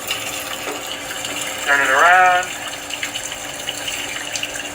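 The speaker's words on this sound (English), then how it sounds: "you have to turn the hot water on. Put it under the hot water for about 10 seconds" Hot water runs steadily from a sink tap over a frozen chocolate cake mold, a continuous rushing hiss, while someone speaks briefly over it.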